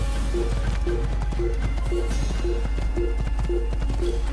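Horse hooves gallop in a steady, rhythmic clip-clop in the Assassin's Creed video game, loud and close, with game music or ambience underneath and no talk.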